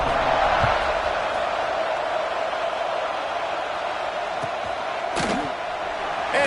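A football stadium crowd keeps up a steady, roaring wash of noise before a Florida State kickoff, with a faint tone and a few thumps near the end.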